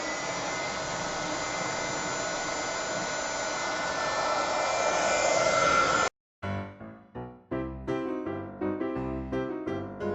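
An embossing heat gun blows steadily for about six seconds, a loud continuous fan-like roar, then cuts off and is followed by a series of short, sharp knocks and taps.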